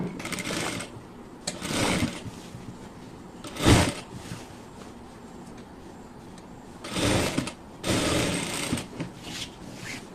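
An electric sewing machine stitches sleeves onto a garment in a home sewing setup, running in several short bursts separated by pauses, with a longer run near the end.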